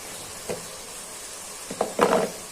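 A utensil stirs large prawns with peas, salt, garlic paste and ginger in a pan, giving a few short scraping strokes over a faint, steady sizzle, the last two close together and louder.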